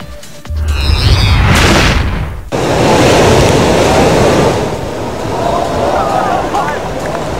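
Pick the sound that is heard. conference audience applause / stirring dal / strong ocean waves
strong ocean waves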